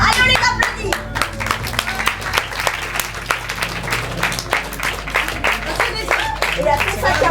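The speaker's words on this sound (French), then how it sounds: "allez, on les applaudit" Lively audience applause at an improv theatre festival in Paris, loud close hand clapping with sharp individual claps standing out over a continuous crowd patter, holding an even level throughout.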